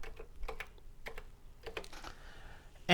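Keys clacking on a Commodore VIC-20 keyboard, a short run of separate close taps with uneven rhythm and small pauses, with no voice over them.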